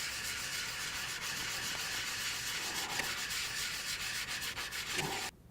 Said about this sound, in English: I'm going to finish the sanding by hand because it gives you a little bit more control.